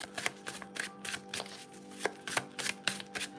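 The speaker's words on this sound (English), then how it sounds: "I want to give it a good shuffle." Rapid papery riffles and flicks of a steampunk tarot deck being shuffled, close and fairly loud, in irregular bursts with no talking.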